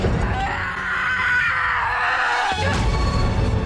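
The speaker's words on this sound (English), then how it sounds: "having America break the sound barrier with a horrendous pterodactyl scream" A horrendous, pterodactyl-like scream from a Marvel film rings out loud and harsh, sustained for several seconds over a dense, rumbling action-scene backdrop with a sharp burst partway through.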